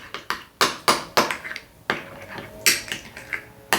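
A spoon clinks and scrapes against a bowl while cinnamon is stirred into a kids' pumpkin snack, a rapid run of sharp, close taps in uneven rhythm with no talking.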